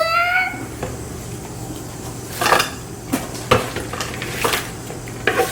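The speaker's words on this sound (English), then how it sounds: "Next, we're going to put them in our pan." Sliced apples for an apple crisp going into a baking pan with a utensil, heard as a series of close clinks and scrapes against the pan over a steady background hum, with no talking.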